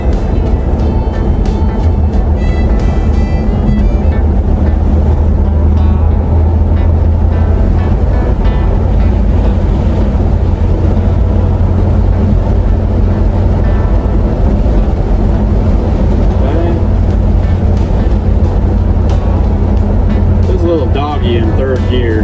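An abandoned Chevy squarebody truck, revived after 23 years, rolls along in third gear with a loud, constant engine drone and road roar filling the cab, steady and close throughout with no breaks.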